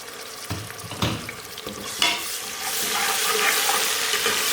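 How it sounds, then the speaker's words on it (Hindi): Ginger garlic paste sizzles steadily in a pan with browned onions while a spoon stirs it, giving repeated scraping strokes over a continuous frying hiss that grows fuller toward the end. "अब हम इसमें अदरक लहसुन का पेस्ट डाल देंगे।"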